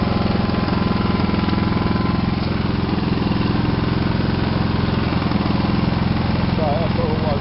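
A Kipor Sinemaster 6000 generator engine runs steadily with a loud, constant mechanical drone and fine rapid pulsing, close by, while someone talks over it.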